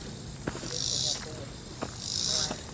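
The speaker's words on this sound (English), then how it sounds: "Listen to those crickets." Crickets chirp at night, a loud, continuous pulsing trill that swells and fades in two waves, with faint rustling steps underneath.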